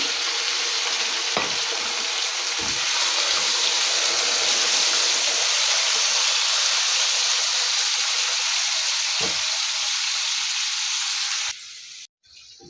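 Chicken pieces sizzle loudly in about three tablespoons of hot oil with sautéed garlic, a steady broad frying hiss that holds throughout, broken by a few brief stir clatters, before cutting out near the end.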